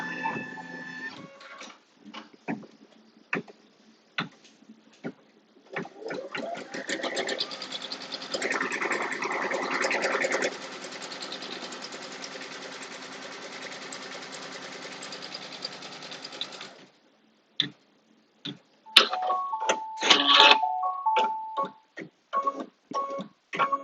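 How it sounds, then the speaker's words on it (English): Embroidery machine stitching placement lines for an in-the-hoop quilted A5 notebook cover, a steady mechanical whirr running for about eleven seconds, then short bursts and clicks near the end. "I'm going to put the foot down and stitch the placement lines."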